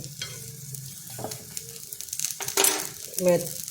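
A lotus flower snack fries in a little oil in a pan over low heat, giving a soft sizzle with a few brief scraping and clinking touches of a utensil and no speech.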